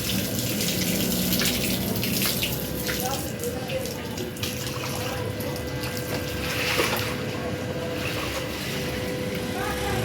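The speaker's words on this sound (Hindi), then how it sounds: "इसको अच्छे तरीके से बाहर निकाल लेते हैं पानी को।" Water drains out of a washing machine in a steady, continuous gushing and splashing that runs loud and close for the whole stretch, with a faint low hum beneath it.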